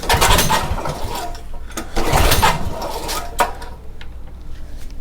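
A Honda GX270 engine with no compression, run at full throttle, making a loud, rough, steady mechanical roar with a few surges and clanks. No voices.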